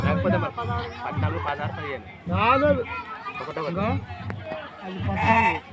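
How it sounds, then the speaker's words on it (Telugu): Male goats bleat repeatedly amid a crowd at a village Beerappa festival, the wavering calls mixed with steady nearby conversation and background chatter. "మేకపోతులు"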